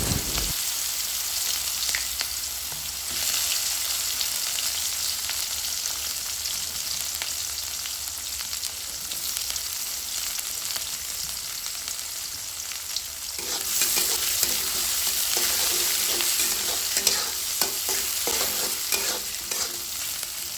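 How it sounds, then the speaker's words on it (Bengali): Chopped onions and green chillies frying in hot oil and stirred with a spoon, giving a continuous close crackling sizzle with scraping stirs, growing louder and busier in the latter part. "নেড়ে চেড়ে পেঁয়াজগুলো আমরা একটু নরম করে নিচ্ছি"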